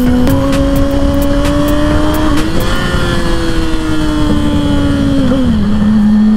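A Suzuki GSX-R 750 sport motorcycle engine drones loudly at high revs while riding through traffic, its pitch climbing, then dropping sharply in a downshift, with wind noise throughout.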